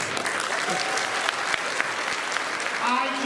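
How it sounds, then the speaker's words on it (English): An audience at a panel discussion on the rise of the machines applauds steadily, a dense sustained clapping that fills the room throughout. "I do not know why you're all applauding."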